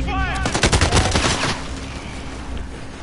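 Warzone gunfire rattles in a quick burst of loud, rapid automatic shots close by, then drops to a quieter background with a few scattered distant reports; a voice is heard briefly at the start.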